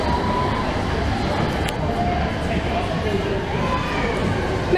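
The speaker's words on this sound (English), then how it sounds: "Metropolitan Line train to Aldgate is arriving on the other platform." A London Underground Metropolitan Line train arrives at Great Portland Street, a loud, continuous rumble and roar filling the platform, with faint squeals on top.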